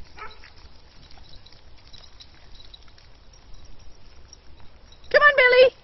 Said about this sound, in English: And that's Grumpy barking at him